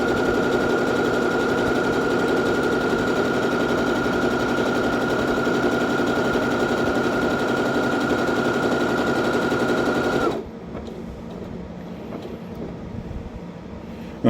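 Sewing machine stitching a circle appliqué, a loud continuous rapid mechanical whir with a steady pitched hum for about ten seconds, then stopping abruptly into quieter handling noise.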